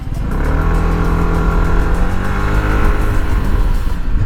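An FKM MTX 150 motorcycle engine revs steadily and loudly up close as it accelerates for a brake test, with a continuous droning tone and no speech.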